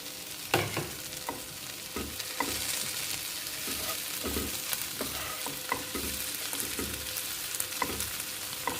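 Prunes and onions sauté in a hot pan for plum chutney, sizzling steadily while a utensil scrapes and stirs them in repeated strokes, close and alone.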